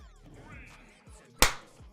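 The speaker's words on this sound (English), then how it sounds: "I'm going to clap" A single sharp hand clap rings out near the end, loud and close, after a stretch of faint background noise.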